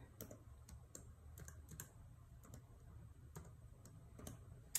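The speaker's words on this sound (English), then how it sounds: "I'm gonna go ahead and type something here" Keys on a computer keyboard are tapped in short, irregular bursts with small pauses between them. The clicks are very faint and close against a quiet room hum, and no one speaks.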